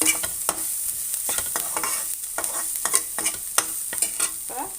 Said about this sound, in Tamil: இதையும் நல்லா சேர்த்து வதக்கிக்குங்க